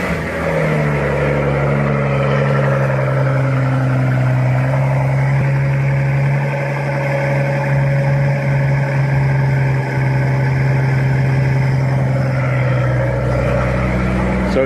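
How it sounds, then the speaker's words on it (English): A car engine cold-starting and idling with mufflers fitted, a steady loud low rumble that holds throughout with slight fluctuations, no voices over it. "So I'm going to show you guys a cold start now with mufflers"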